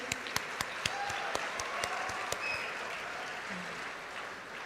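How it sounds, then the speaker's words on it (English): Thin applause at a university convocation ceremony, a few sharp individual claps early over a soft hall murmur that fades into quieter room noise by the end. "Big round of applause to Sri Sudhakar Rao Garu and his entire team."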